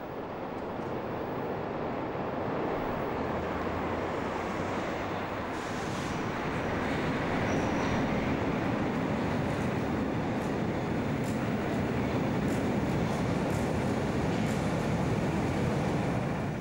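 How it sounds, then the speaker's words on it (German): A historic A2 train on the Berlin U-Bahn rolls steadily along in regular passenger service, a continuous loud rumble of wheels and car noise with occasional faint high squeals, no voices. "Der historische A2-Zug ist auf dem Rückweg nach Ruhleben. Der Zug rollt im normalen Fahrgasteinsatz."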